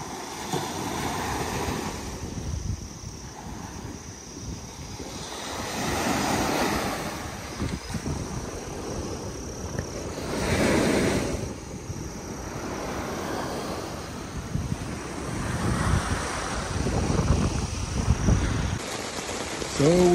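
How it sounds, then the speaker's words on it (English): Rain falls at a forest campsite in Equatorial Guinea, a steady wash of noise that swells and fades with gusts of wind rumbling against the microphone, heard up close with no clear talk. "as you can hear, it's raining"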